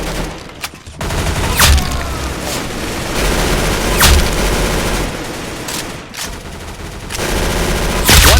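Gunfire in the video game Arsenal: rapid, loud bursts of automatic fire that stop and restart, with a few sharp single blasts standing out over a constant rumble of game noise. No one speaks.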